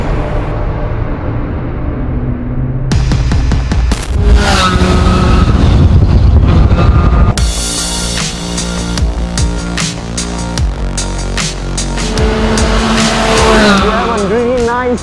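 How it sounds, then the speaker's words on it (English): A DSK Benelli TreK 1130 adventure motorcycle with a raspy exhaust is ridden, its loud engine drone rising and falling through gear changes and revs, close and steady throughout, with a voice talking over it at times. "a beautiful engine, a raspy exhaust note"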